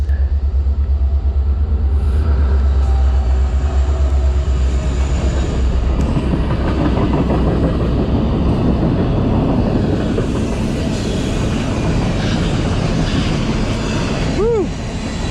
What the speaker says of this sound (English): I get the train spot while I'm here as well, and maybe we can catch one here at sunset.